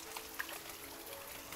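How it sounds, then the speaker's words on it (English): Water from a natural spring spilling down a small waterfall, a steady, faint wash of trickling and splashing with no voices. "It's like a small waterfall."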